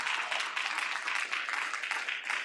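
A congregation claps in praise during a Sunday morning worship service, a steady, fairly dense round of hand clapping with slight rhythmic surges, moderately near and alone.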